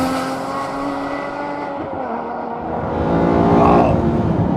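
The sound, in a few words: Aston Martin One-77 EVO engine revving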